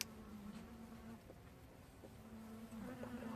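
Close, continuous buzzing of many honey bees in an opened hive, an even droning hum with slight swells and a few faint knocks from handling, no speech present.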